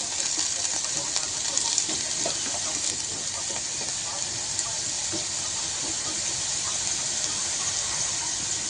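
Diced potatoes frying over low heat in a pan for a fasting-day snack with peanuts, giving a steady, even sizzle that stays close and constant without pause.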